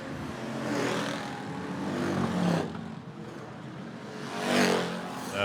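Small race cars roar around Potomac Speedway during Friday night racing at the Small Car Nationals. The engine noise is continuous and swells repeatedly as the cars sweep past, loud and close.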